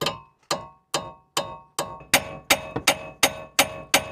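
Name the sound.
hammering a wheel stud into place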